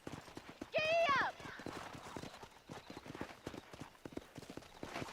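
Horse hooves galloping in Red Dead Redemption, a rapid, steady clip-clop running the whole way, with a sharp whinny near the start and people talking over it.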